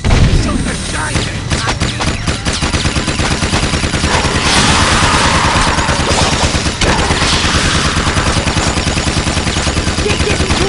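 Video game Jak 2 with dense, continuous rapid gunfire and booming shots, loud and relentless, with brief shouted voices mixed in.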